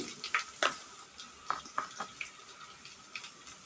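Ginger and garlic frying in a pan as the base of a stingray fish curry: a faint, soft sizzle with scattered light clicks and scrapes from stirring.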